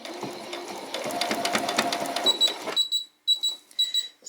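A domestic sewing machine stitches in a brief whirring burst, then gives a series of sharp electronic beeps as it stops, heard close with no talking.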